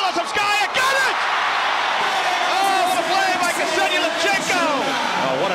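Crowd at a women's U19 world championship basketball final between Russia and the USA roars and cheers loudly and steadily, with whoops rising above the din and a commentator talking over it.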